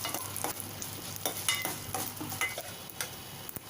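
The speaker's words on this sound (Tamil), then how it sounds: "கடலைப்பருப்பு, 1 டீஸ்பூன் அளவு உளுத்தம்பருப்பு சேர்த்து நல்லா வறுத்தரலாம்" Chana dal, urad dal and two broken dried red chillies frying in oil for a gongura chutney, a soft close sizzle broken by repeated light ticks and scrapes of stirring, with no speech.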